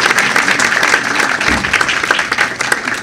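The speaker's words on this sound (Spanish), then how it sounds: "Un fuerte aplauso, por favor, a Catalina." A packed room at a Startup Grind Lima event breaks into loud applause for a guest, many hands clapping in a dense, continuous roar that stays strong for the whole stretch.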